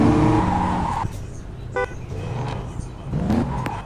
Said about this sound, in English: Oh yeah, we got another BMW running in.